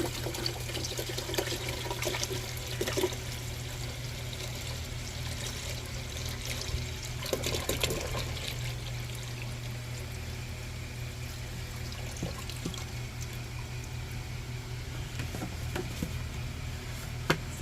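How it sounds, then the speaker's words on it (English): Apple cider vinegar poured into a container of parts outdoors at a bushcraft camp, a steady liquid pour and trickle running throughout under a constant low hum, with a few brief splashy bursts. "Pour apple cider vinegar in here."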